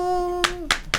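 Three sharp hand claps, close and crisp, spaced a fraction of a second apart, following a fading sustained tone.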